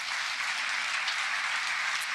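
A church congregation applauding at a Pentecostal-style worship service, a steady dense wash of many hands clapping throughout, fairly loud and even with no talk over it.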